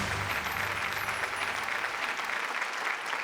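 An audience applauding at an insurance awareness quiz competition, dense sustained clapping from many hands that carries on evenly for several seconds.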